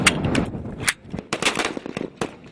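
Bursts of gunfire ring out during rebel weapons training at an outdoor range in Zintan, Libya, with several close, loud shots and short volleys spread unevenly across a few seconds, and no talking.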